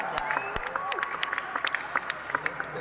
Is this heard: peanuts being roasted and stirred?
no